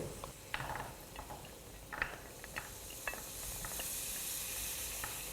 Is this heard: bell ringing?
no